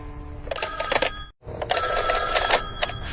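An old-style telephone bell rings loudly in two long trilling bursts separated by a short silent gap, with no voices.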